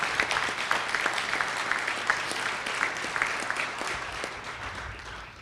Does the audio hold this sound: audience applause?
yes